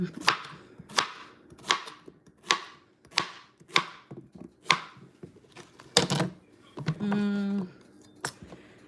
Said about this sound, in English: all I do is just slice them. That's it. And I like my knives like super sharp, so it's like butter.